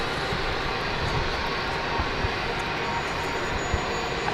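A Cathay Pacific Boeing 747 at Brisbane International Airport gives off a steady, loud jet-engine roar that holds constant for the whole stretch, with no voices heard.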